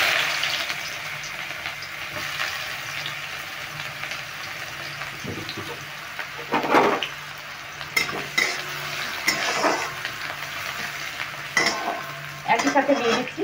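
Thinly sliced onions fry in hot oil as a steady close sizzle, broken by several scraping stirs and utensil knocks against the pan.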